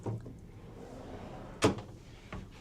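Drawers in a cruise ship ocean view balcony cabin on Utopia of the Seas open and close, giving a few short soft thumps and a sliding knock, close up in a quiet room.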